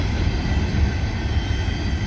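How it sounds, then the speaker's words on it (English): A Cincinnati Eastern Railroad freight train rolls past on the old Norfolk and Western Peavine Line near Sardinia, Ohio, with a loud, close, continuous rumble of wheels and cars. "Pretty nice little train size for the old Peavine Line."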